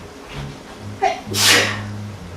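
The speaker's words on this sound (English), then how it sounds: "Sneezing the other direction away from the food." A single loud sneeze bursts out over a steady low background hum, with a short sharp sound just before it.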